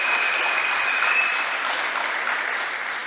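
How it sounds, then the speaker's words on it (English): A political meeting audience claps steadily in applause, a dense, even wash of hand claps that holds throughout and begins to taper at the end. "So please give them a round of applause."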